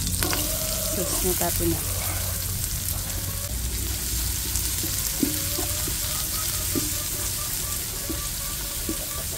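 Chopped onion sautéing in a cooking pot after garlic, a steady sizzle and frying crackle running throughout with occasional clinks of stirring and brief spoken remarks over it.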